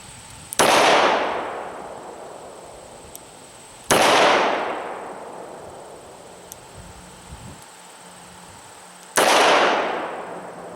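A Smith & Wesson 340 SC .357 five-shot revolver fires +P rounds: three loud, sharp gunshots spaced a few seconds apart, each with a ringing outdoor decay, and a quiet stretch between them.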